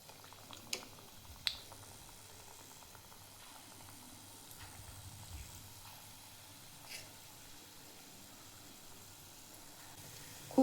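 Onion bhaji batter fries in hot oil, a faint, steady bubbling sizzle with a few soft pops, heard alone.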